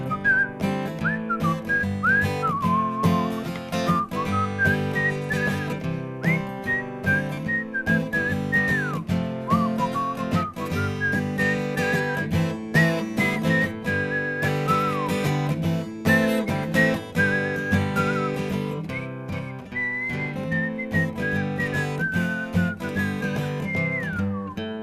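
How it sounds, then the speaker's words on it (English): A melodic whistled tune carries on over backing music, bright and sustained, rising and falling in phrases for the whole stretch. "I love the whistling."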